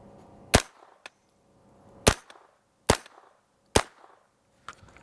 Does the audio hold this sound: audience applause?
no